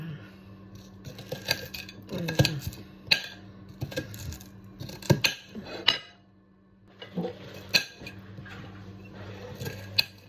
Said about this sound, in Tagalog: mag-slice tayo ng ampalaya